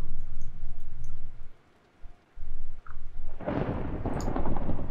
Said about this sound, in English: I think it's raining out